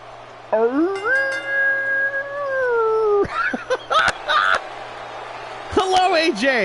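A wolf howl in Baron Corbin's wrestling entrance rings out as one long, sustained, loud cry that rises and then holds steady, followed by choppy, broken bursts of sound and a second short howl-like flare near the end.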